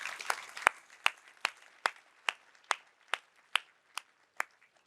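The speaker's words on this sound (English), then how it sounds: "Please give them a big round of applause." An audience at a tech conference applauds with faint, evenly spaced claps repeating at a steady rhythm for several seconds.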